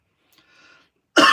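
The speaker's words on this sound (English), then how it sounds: "Excuse me, bit of coughing today." After near silence, a single sharp, loud cough bursts out close by at the end.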